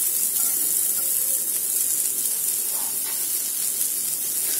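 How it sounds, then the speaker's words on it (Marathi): Sliced onion sizzles steadily in a hot pan while cooking for misal, a constant close frying hiss with no pauses. "आता सेम पॅन मध्ये आपण एक उभा चिरलेला कांदा याला पण छान परतून घ्यायचा."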